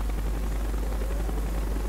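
Russian Mi-8 military transport helicopter in the Call of Duty Black Ops video game, a steady continuous rotor and engine drone holding loud and even throughout with no voices.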